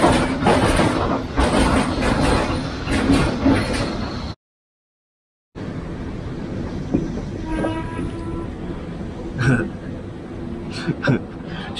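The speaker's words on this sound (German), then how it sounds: "Ah, diese Züge, die belästigen." A train rumbles past with a steady roar, cuts out briefly, then continues with rattling wagons, metallic squeals and clunks.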